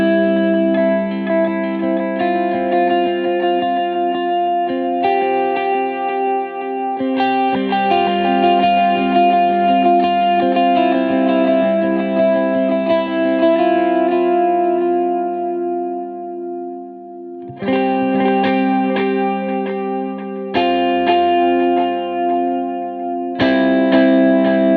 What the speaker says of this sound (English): So Bradford, go ahead and play, and I'm just going to play with the crossfeed.